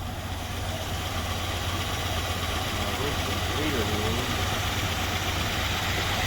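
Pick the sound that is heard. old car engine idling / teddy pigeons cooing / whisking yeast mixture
old car engine idling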